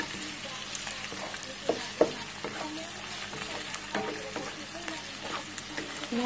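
Meat stir-fried in a pan with onion and garlic, a steady sizzle with scattered scraping clicks of the spatula stirring throughout, fairly close and continuous.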